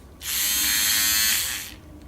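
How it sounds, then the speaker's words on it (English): An IKEA portable electric milk frother whirs alone for about a second and a half, a close, loud, steady buzzing hum that starts and stops abruptly. "basically this is a portable mixer with which you will create the main magic."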